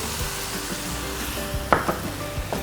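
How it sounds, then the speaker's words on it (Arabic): Ingredients for Emirati chicken machboos toasting in a pan, a steady close sizzle with occasional clacks and scrapes of stirring. "حقلب كل هالمكونات مع بعض لغاية ما تاخد برضو هيك تحميصة حلوة"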